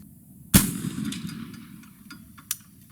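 An 1853 Enfield black powder military rifle fires one sharp, loud nearby shot that rings briefly, followed by a fainter distant crack.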